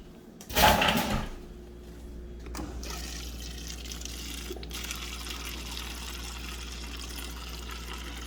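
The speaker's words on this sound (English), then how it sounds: "I'm already noticing the water comes out much faster now than it was before I changed the filter" A Whirlpool refrigerator's water dispenser with a freshly replaced filter gives a loud burst of flowing water, then a steadier, quieter stream runs on for several seconds close by, with no voices.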